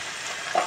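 Potato pieces added to brinjal and other vegetables frying in a pan for Malvani-style bhogichi bhaji, giving a short steady sizzle with a brief louder burst near the end.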